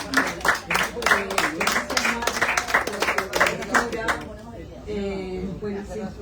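Audience clapping at a spoken-word and performance event, a burst of applause for about four seconds that fades into quiet room sound with a faint voice.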